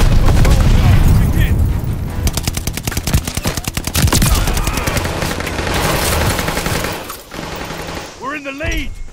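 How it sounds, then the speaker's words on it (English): Call of Duty Vanguard battle with loud rapid machine-gun fire and heavy booming grenade explosions, dense and close, with shouted voices over the combat near the end. "Throwing grenade! Stun grenade!"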